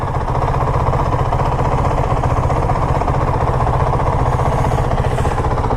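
2019 Honda CRF450L dual-sport motorcycle with a Unicam 450 single-cylinder engine idling nearby, a steady, loud, even low thrum throughout with no talk.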